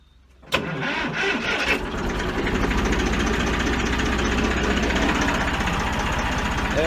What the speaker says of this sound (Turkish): Besmelemizi çekip traktörümüzün marşına bir artık dokanalım.